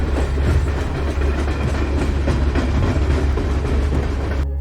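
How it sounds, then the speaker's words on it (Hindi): A train runs through the Gotthard Base Tunnel, the deepest and longest underground railway in Switzerland, producing a loud, steady low rumble and rhythmic wheel clatter that fills the whole stretch without any voices. "यहाँ मुझे ट्रेन की आवाज सुनाई दे रही है।"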